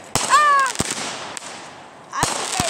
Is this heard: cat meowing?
no